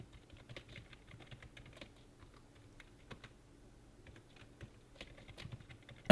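Typing on a computer keyboard, a light irregular patter of close key clicks running steadily for several seconds and ending in one louder thump.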